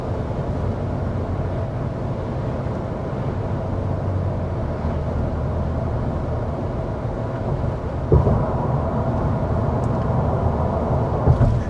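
Inside a 2025 Nissan Frontier PRO-4X pickup on all-terrain tires, steady road and tire roar at 55 mph mixes with a low fan hum, and a thump comes over a bridge joint.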